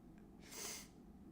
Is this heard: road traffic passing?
no